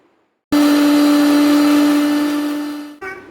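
Mixer grinder blending vegetables into a paste for idli batter: a loud, steady motor whine starts abruptly, runs for about two and a half seconds while slowly dropping in pitch, cuts off briefly, then restarts.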